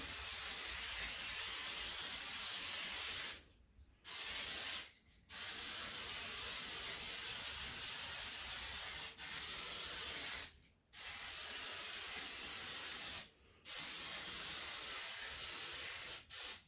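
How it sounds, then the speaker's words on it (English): Long continuous hissing bursts from an olive oil spray can onto a baking tin, close up, broken by four short pauses between sprays. "I got my olive oil spray, and I just want to spray down the tin."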